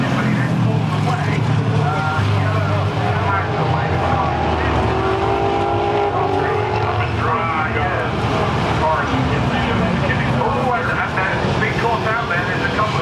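Race cars at Brands Hatch circuit during an American Speedfest meeting drone loudly and continuously, engine roar rising and falling as cars pass, with people talking over the noise.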